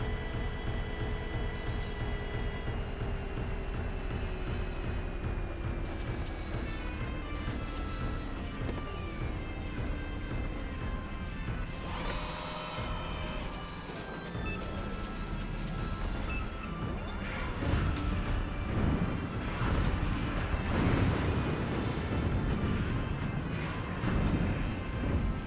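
Heavy mech engine in a Steel Battalion game roaring at high revs in fifth gear, a loud continuous rising drone with layered harmonic whine and rumbling impacts near the end, with no talking.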